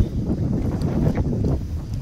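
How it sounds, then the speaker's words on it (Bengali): Strong wind buffets a boat on rough water, a loud, steady low rush of wind noise against the microphone with faint splashes of waves, no talk. "এখানে প্রচণ্ড হাওয়া হচ্ছে প্রচণ্ড ঢেউ হচ্ছে"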